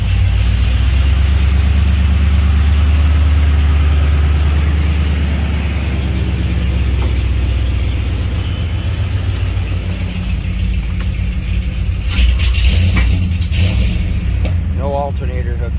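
Freshly rebuilt car engine idling steadily while burning oil off new headers, a loud, continuous low rumble filling the clip, with someone talking over it and some clatter near the end.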